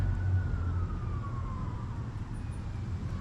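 A faint, distant police siren wails with a slow falling tone over low background hum, heard from a city creek tunnel.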